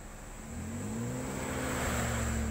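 A car engine revs and strains while pulling away up a slope in slow, crawling traffic, its low tone rising steadily and holding loud and close, with no talk over it.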